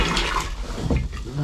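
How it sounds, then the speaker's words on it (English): Salt water rushing and gurgling through a pumping marine toilet aboard a sailboat, close and continuous, with a faint voice in the background. "It's like a pumping toilet, so if you take it down here, you just have it pump and it's clean with salt water."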